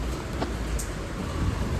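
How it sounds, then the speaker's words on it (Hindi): Heavy monsoon rain pours down in India during Sawan, making a dense, continuous hiss with a deep low rumble beneath and a couple of brief sharp clatters. "बहुत तेज बारिश आ रही है गाइस, आवाज़ से पता चल रहा होगा।"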